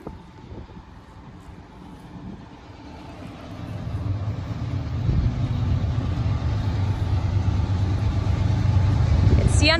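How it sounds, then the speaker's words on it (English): A CN freight train approaches, a low rumble that swells gradually from faint to loud over about ten seconds, with wind buffeting the microphone and a faint horn-like tone near the end. "here comes the train."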